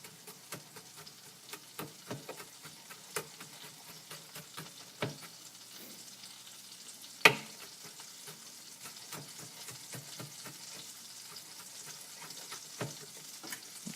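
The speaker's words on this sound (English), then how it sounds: "You can hear the butter already fizzling over there." Butter sizzles and fizzles steadily in a pan on the stove while fettuccine alla vodka sauce is started, a continuous crackling hiss with scattered louder pops and one sharp clack, no voices.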